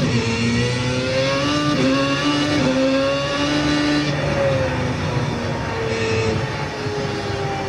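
An F1 car engine in the iRacing simulator, a loud, steady high-revving whine with shifting pitch as the car pulls out of the pits, continuous and close with no speech.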